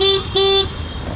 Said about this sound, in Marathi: आता हॉर्न तर बसवलेला आहे